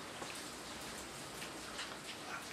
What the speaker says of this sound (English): Heavy rain. That's heavy rain.